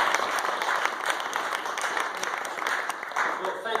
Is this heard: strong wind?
no